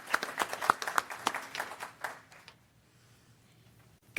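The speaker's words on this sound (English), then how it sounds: "Join me in giving Ms. Keaton a welcome round of applause." Brief applause from a meeting audience welcoming a speaker to a general session: a few seconds of scattered claps that thin out and fade to near silence.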